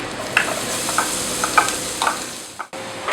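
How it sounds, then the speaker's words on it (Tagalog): Onions sauté in olive oil and butter in a pan, crackling and sizzling steadily while a utensil stirs in light, regular scrapes, ending in a brief pause. "Now we have to saute caramelized onions. First we have to put olive oil, then butter."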